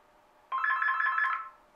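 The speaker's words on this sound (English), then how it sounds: "Let's pick home, ringer melody." A VTech LS5145 cordless phone plays a short electronic ringtone melody, a bright repeating trill lasting about a second, clear and close.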